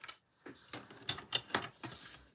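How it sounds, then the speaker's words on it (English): A bone folder scores a paper card base with a run of sharp, close scraping and tapping strokes, about half a dozen in quick irregular rhythm; no one speaks. "Let me grab my bone folder here so I can"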